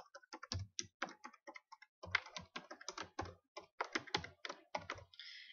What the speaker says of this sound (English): And then you just type inside your text box.